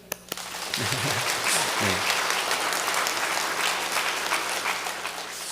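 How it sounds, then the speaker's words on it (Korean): Church congregation clapping together during a service, a steady, full round of applause that rises quickly after a brief voice and holds evenly throughout. "장로님들에서 박수 한번 주실까요?"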